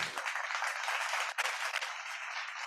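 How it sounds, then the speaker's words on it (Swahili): An audience at a governance meeting applauds the guest of honor, a steady wash of clapping that holds for a few seconds at moderate level with a brief dip midway. "Tumpe makofi mengi tena tafadhali."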